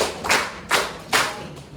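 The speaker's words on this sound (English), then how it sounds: "Can you please give yourself 5 claps?" A group in a grammar lesson claps together in three sharp, evenly spaced bursts, close and fairly loud, with quiet gaps between them.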